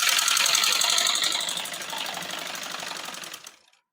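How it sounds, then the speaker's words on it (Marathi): A sewing machine runs a continuous seam along the hem of a maxi dress being altered, its rapid, even stitching close and steady before stopping abruptly near the end. "अशा पद्धतीने पूर्ण शेवटपर्यंत मी शिलाई मारून घेणार आहे."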